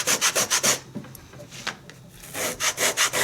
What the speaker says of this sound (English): being leather, however, it is much easier to sand